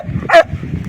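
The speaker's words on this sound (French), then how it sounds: "on arrête pas d'aboyer, là." A dog gives one short, high yappy bark, close and sharp, amid faint low room noise.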